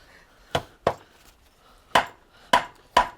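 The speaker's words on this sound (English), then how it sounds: "You've got the hammers there, mate." Hammer blows on a Subaru transmission being stripped in a home garage: five sharp, loud metallic knocks, two close together, a pause, then three more at a steady pace.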